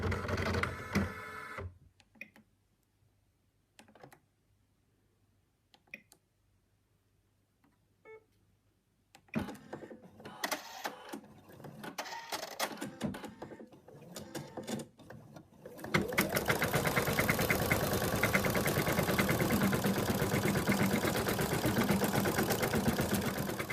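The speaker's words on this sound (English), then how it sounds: "machine has outlined the arms and legs and the tail" An embroidery machine stitching the outline of a mouse design starts and stops in short bursts, then settles into a continuous, loud, rapid mechanical whirring and clatter nearby.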